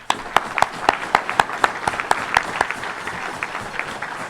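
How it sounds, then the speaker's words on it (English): Members at a Rotary Club meeting give a hand to recognised people, a roomful of applause with several sharp, distinct claps standing out near the front before the clapping thins toward the end. "So will you please give them a hand?"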